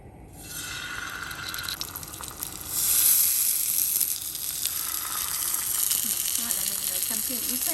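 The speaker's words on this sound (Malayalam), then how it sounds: "ഒരു പാത്രത്തിൽ കുറച്ച് വെളിച്ചെണ്ണ ഒഴിച്ചിട്ട് ഞാനൊന്ന് ഫ്രൈ ചെയ്തെടുക്കാൻ പോകാം" Pearl spot fish frying in coconut oil, a loud continuous close sizzle and crackle that swells partway through, with some faint clinks near the end.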